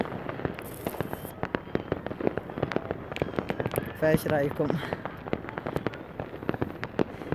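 Fireworks burst at a Mawlid celebration in a Yemeni village, with dozens of sharp cracks and pops in rapid irregular succession from mid-distance, and someone speaks briefly in the middle.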